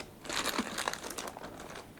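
Plastic bags and a plastic container covering plant cuttings being handled, giving close crinkling and crackling bursts in quick irregular clusters, with no speech.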